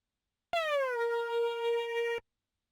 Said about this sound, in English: use another synth with slide notes